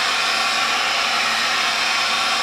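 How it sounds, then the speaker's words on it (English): A hair dryer on its higher setting blows steadily and loudly, a constant close whoosh-hum with no pauses while it heats the repair area on a PVC Zodiac dinghy. "Use a hairdryer on the higher setting"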